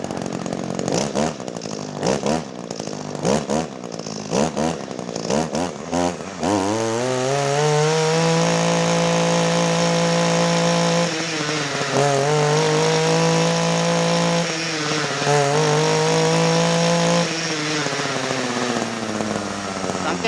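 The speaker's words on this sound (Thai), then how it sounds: "จะลองเร่งเครื่องให้ดูอีกสักครั้งครับ" A secondhand Japanese Kyoritsu Echo 26cc brush cutter's two-stroke engine sputters unevenly, then climbs to a loud, steady high-pitched whine, dipping briefly twice before returning to full revs, up close.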